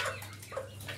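Serama chickens, the smallest chicken breed, cluck softly inside an incubator, with a few faint, brief calls close by over a low steady hum.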